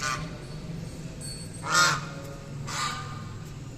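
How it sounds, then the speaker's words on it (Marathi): Two loud, nasal duck quacks a second apart, rising over a steady outdoor hum at a temple with havan pits. "सोबतच तशी इथे बदक सुद्धा आहेत"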